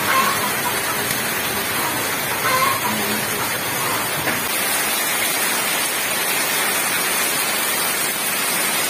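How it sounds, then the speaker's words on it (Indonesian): Heavy morning rain pours down steadily in a dense, even hiss close by, continuous throughout with no talking. "Hujannya sangat deras."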